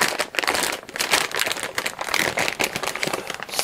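Crinkly plastic and cardboard packaging rustles continuously and close by as a small 3D printer display is pulled out of its box, a dense crackling texture with no talking.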